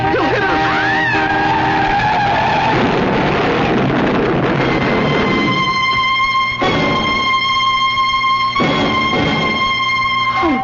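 A truck skids with a long squeal of tires while driving, loud and close, the screech fading into sustained tonal engine and road noise over the final seconds.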